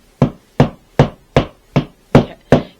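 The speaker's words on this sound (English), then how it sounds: "what's all this hammering sound?" A hammer strikes shingles during a rainy roof patch job, seven sharp, loud blows landing at an even, steady rhythm with short pauses between them. No one speaks.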